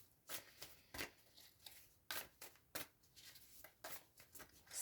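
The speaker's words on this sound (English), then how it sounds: "just do a very quick shuffle just now" A deck of tarot cards being quickly shuffled by hand gives repeated crisp riffling bursts, close and quiet, with no talking.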